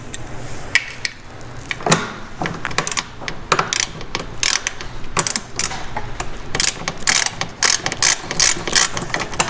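A hand ratchet fitted with a T40 bit loosens a bolt on the front bumper of a Polaris RMK snowmobile, giving repeated close, crisp clicking bursts in an uneven rhythm with brief pauses.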